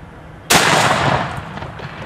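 A single loud blast from an 1878 cowboy-style shotgun with a 20-inch barrel, fired at targets with turkey loads, the sharp report hitting suddenly and trailing off into a long outdoor decay.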